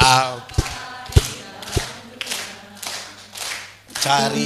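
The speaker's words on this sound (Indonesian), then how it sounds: "Ulang sambil tepuk tangan 3, 4." A church congregation claps hands in a steady, even rhythm during a song, with sharp claps about every half second over sung voices.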